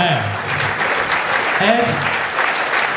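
Continuous audience applause at a school rugby awards evening for the 1st XV, loud and sustained throughout, with voices talking over it.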